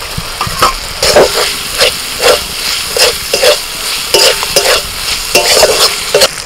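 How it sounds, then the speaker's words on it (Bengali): Fried prawns stirred into a cooked-down spice masala in a pan, with repeated rhythmic scrapes of a spatula over a steady close sizzle, loud and without any talk. "মশলা কষানো হয়ে গেছে, আর ভাজা চিংড়ি মাছ দিয়ে দিচ্ছি।"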